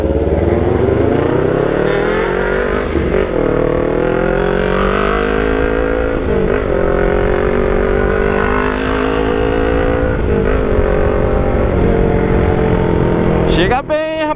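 A Kawasaki Ninja motorcycle engine revs loud and close, its pitch rising and dipping in repeated surges over a continuous drone, with people talking over it.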